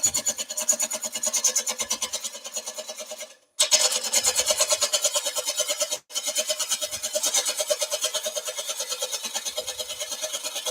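A woodturning gouge roughs out a wooden bowl on a lathe, a loud rapid rhythmic rasping chatter that repeats steadily, breaking off briefly twice before resuming at the same pace.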